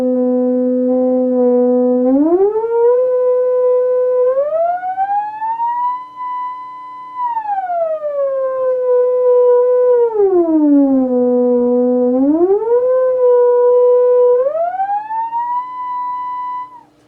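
A theremin glides smoothly up and down in pitch with a sustained, singing tone, rising in steps, holding, then falling and climbing again across several sweeps, loud and close with no talking.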